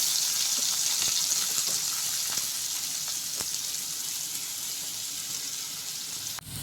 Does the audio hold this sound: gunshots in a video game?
no